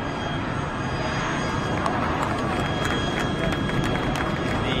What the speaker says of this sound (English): The E195 E2 Profit Hunter in flight.